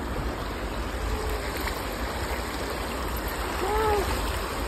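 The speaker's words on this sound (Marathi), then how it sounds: "हे बघा पाणी येतंय वरून" Water pours down from above at the Palipasla dam, a steady broadband rush that runs through the whole stretch, with a brief faint voice rising near the end.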